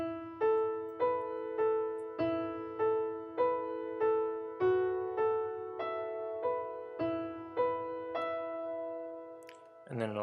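Keyboard piano doubling the lead electric guitar line from a song, played as a steady series of clear, evenly spaced notes that ring and decay one after another, close and alone with no talking.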